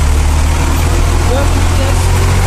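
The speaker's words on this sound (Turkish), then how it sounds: "Biraz kaptıralım motorumuzu." Massey Ferguson 240 tractor with a synchro gearbox, its engine pulling hard under heavy load: a loud, close, steady diesel drone with a deep rumbling low end that holds evenly throughout.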